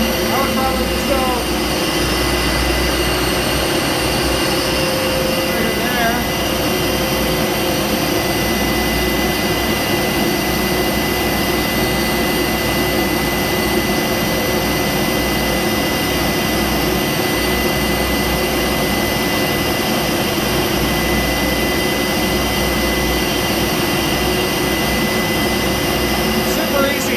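Ski lift drive gearbox with bearings at each end running steadily, a loud continuous mechanical drone with a broad whine and low rumble that holds unchanged throughout, close by.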